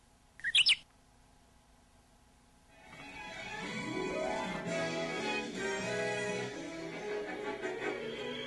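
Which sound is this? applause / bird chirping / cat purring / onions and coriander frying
bird chirping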